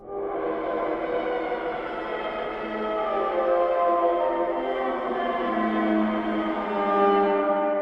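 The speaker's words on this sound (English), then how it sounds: "the main two elements that I'm using for the middle section is this cello overdrive long effects" A long, sustained overdriven cello tone drones with gritty, layered harmonics, slowly shifting pitch and swelling toward the end, with no voices.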